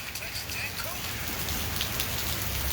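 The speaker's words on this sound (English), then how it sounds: "You can see the rain on the phone" Steady rain falling outdoors, a dense continuous patter on surfaces with faint voices underneath.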